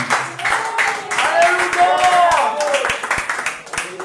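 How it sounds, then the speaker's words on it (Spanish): A church congregation offers applause to the Lord during a sermon, rhythmic clapping from many people close by while a voice rises and carries over the top, with loud, sharp individual claps standing out. "Regálenle una ofrenda de aplauso al Señor"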